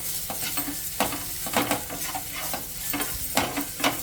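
A capsicum rice mixture with spices and salt is stirred in a pan, with regular scraping and knocking strokes of a spoon every half second or so over a soft frying hiss.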